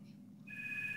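Telephone ringing in the horror game Fear for Sale, a steady electronic tone that starts partway through and holds over a low background hum.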